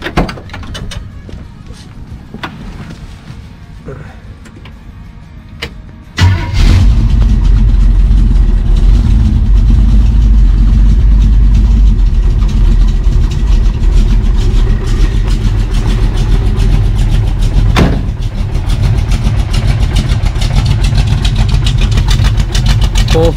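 A car engine starts after a few seconds of quiet and settles into a loud, steady idle close by, running on 110 fuel, with a brief rise in revs near the end.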